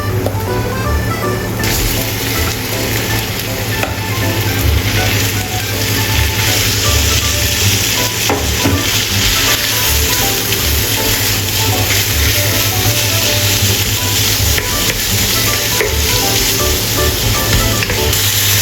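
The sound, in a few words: stir-frying minced meat for Thai pad krapao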